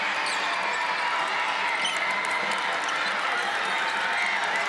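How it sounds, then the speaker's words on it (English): A basketball arena crowd at a women's college game, Boston College against North Carolina, roars steadily and continuously, a dense wash of cheering voices with no break. "now the crowd trying to induce them to get a stop"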